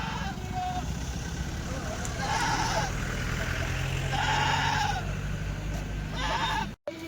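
Goats bleat on a farm, several distinct calls rising above a steady background murmur, with people talking under and between the bleats.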